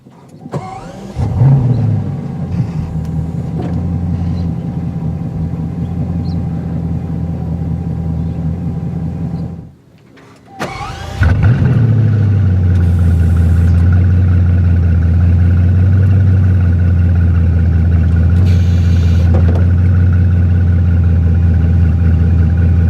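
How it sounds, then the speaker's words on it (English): A 2017 Bugatti Chiron engine starting and revving, first a running idle, then a brief near-silence before the starter catches and the big engine fires with a loud bark, settling into a deep, steady, powerful drone. "simply put your foot on the brake and hit the blue engine start button in the bottom right hand corner of the steering wheel to go."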